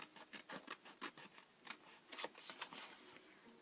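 Scissors snip away paper overhang while trimming a bear card, a quick run of crisp, close cuts in an irregular rhythm, quiet and alone without talk.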